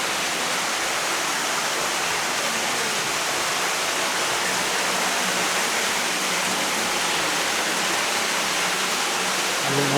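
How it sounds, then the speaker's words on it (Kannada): Water flowing from a lingam-shaped rock formation inside Belum Caves, a dense, continuous rushing hiss like a small waterfall, steady and loud throughout with no other sounds standing out. "ಲಿಂಗದಿಂದ ನೀರು ಬರ್ತಾ ಇರೋದು."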